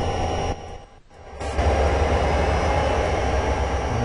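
A train rolling past on Marias Pass in the game Train Simulator 2013, a loud steady rumble and rail hum that dips briefly as a gap passes, then returns strong and continuous.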